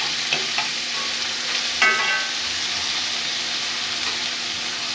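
Onions frying in a pan, a steady close hiss and sizzle with a few light scrapes and clicks of stirring.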